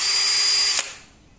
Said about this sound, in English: Make sure you have a drill that fits into this hole.